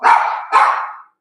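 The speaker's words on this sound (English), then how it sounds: "My dog's barking." Two loud, close dog barks in quick succession, the second following about half a second after the first, then silence.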